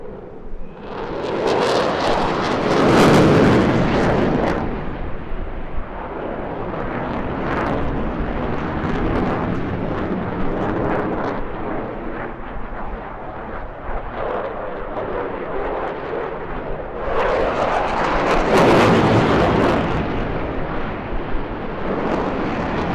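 A military jet at an airshow roars past in long loud swells, with a thunderous rumbling peak near the start and another toward the end, a broad sustained engine roar holding between them.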